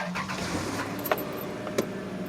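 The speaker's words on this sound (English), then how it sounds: "Maybe let's start the car." A 2005 Dodge Caravan with a check engine light being started: a steady low engine hum with a couple of brief sharp clicks or clunks, fairly close, no talking.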